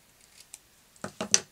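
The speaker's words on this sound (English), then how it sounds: "I want this to be a little bit shorter, so just trim it down with my scissors." Scissors trim craft embellishments with three quick, close snips in a row near the end, after a few faint rustles and handling sounds.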